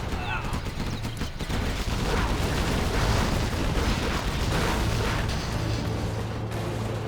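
Bombardment tower firing during a match of the strategy game Command and Conquer Generals: Zero Hour, a dense, steady roar of booming explosions and artillery fire layered over continuous battle noise.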